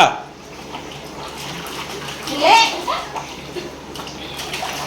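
A child splashes water in a small tub close by, with swishing and a few brighter splashes, while people talk.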